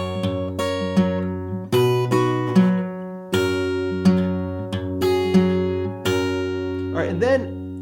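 An acoustic guitar plays the chorus of a song, with bass notes and picked chords ringing out in a clear, unhurried rhythm, ending on a brief bent fill.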